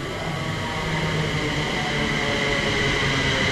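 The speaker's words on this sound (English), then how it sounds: "London North Western Railway service to Euston calling at Euston. This train is formed of 8 coaches." A London Northwestern Railway eight-coach electric train to Euston rolls into a station platform with a loud steady rumble and motor hum, wheels running continuously without voices.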